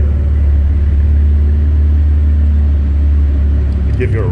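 2015 Chevy Impala idling with muffler and resonator deleted, a loud, deep, steady exhaust rumble close by, with brief voices near the end.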